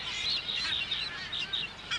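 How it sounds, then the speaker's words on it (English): Booby birds call from a colony on the Galapagos Islands, a run of shrill, nasal, honking cries in quick bursts that are clear and fairly close, with no talking. "It's dangerous for a booby bird to turn its back."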